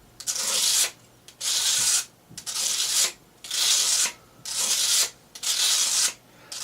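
Knife blade stroked repeatedly across a sharpening stone: six regular, even rasping sweeps, each about a second long with short pauses between, close and clear.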